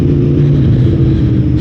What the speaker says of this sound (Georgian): ეგზოუსტი აქვს ძალიან ხმა მაღალი